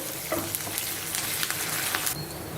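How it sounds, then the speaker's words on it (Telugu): Chopped onion pieces frying in a pan with curry leaves, a continuous close sizzle with scattered crackles and light scraping taps of stirring, ending in a short louder clunk. "ఇప్పుడు ఈ ఉల్లిపాయ ముక్కల్ని వేయించేసేసుకోవాలి"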